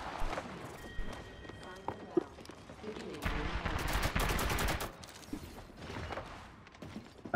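Rapid bursts of automatic gunfire in Apex Legends, loud sustained volleys around the middle mixed with scattered single shots, footsteps and in-game clatter, fairly close.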